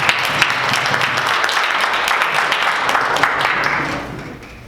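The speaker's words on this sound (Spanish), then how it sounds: "Bienvenido y le damos un fuerte aplauso." An audience at a coaching talk gives a dense burst of applause that holds steady for several seconds, then tapers off toward the end.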